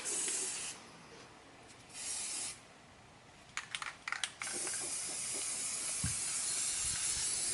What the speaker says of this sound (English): Should I spray paint the side?